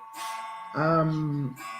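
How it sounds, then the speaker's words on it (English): A chiming clock strikes midday with a single sustained, ringing tone that lasts under a second, close and fairly loud, with a brief voice just before and after it. "Just wait for my chiming clock to finish."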